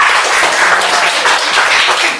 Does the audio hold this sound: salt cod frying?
no